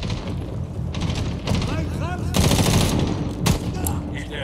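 A G3 rifle firing in the 2010 Medal of Honor video game, with loud rapid shots and dense bursts over a busy battle background, while a voice talks through parts of it.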